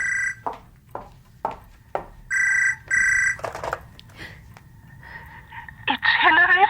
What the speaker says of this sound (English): I got up off the floor to answer the phone.